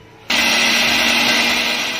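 Kitchen blender grinding soaked mustard seeds, cashews and green and dry chillies into a paste, switching on abruptly after a quiet moment and then running as a loud, steady whirring drone.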